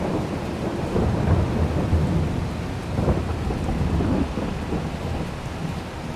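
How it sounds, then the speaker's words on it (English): Steady rain with rolling thunder in the Farming Simulator 22 video game, a dense continuous wash of rainfall under low rumbling swells. "Of course, it's starting to rain."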